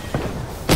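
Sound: grenade explosion in Apex Legends video game

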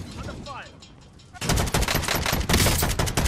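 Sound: gunfire from a gun in Call of Duty Warzone video game

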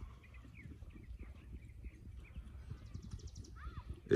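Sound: horse hooves stepping

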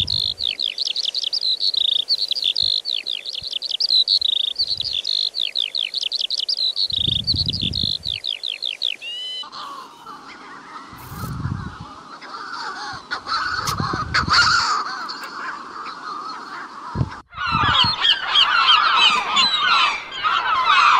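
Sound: recorded coastal bird calls played back

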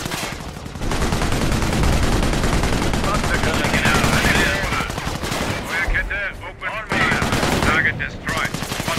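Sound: gunfire in Company of Heroes video game

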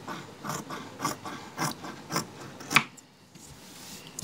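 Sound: cutting old legging fabric

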